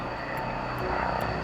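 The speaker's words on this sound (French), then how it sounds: "le prototype du Rafale A effectue son premier vol" Dassault Rafale A prototype jet on its first flight at the DGA test site in Istres, a steady, broad aircraft roar that holds evenly throughout without pause, no voices present.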